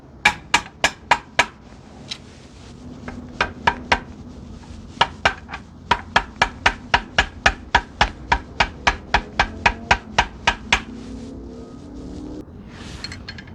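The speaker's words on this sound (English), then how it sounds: "Use a rubber mallet." Rubber mallet hammering on a motorcycle engine guard part for a Honda Rebel 1100, sharp impacts in quick repeated bursts, a few taps then long steady runs of strikes, loud and close with no talk.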